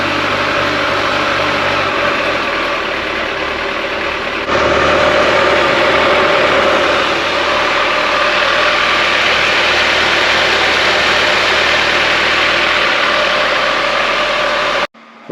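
A Kawasaki ZZR1400 motorcycle idles steadily close up for a long stretch, a constant mechanical drone with a slight step up in level partway through as the cooling fans kick in, then it cuts off abruptly near the end.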